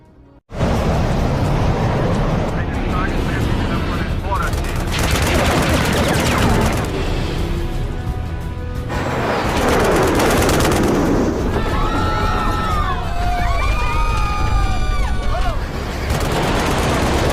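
Nazi fighter jets attack an aircraft in a film scene, with loud sustained gunfire bursts and explosions over roaring engines and dramatic soundtrack, heavy and continuous throughout.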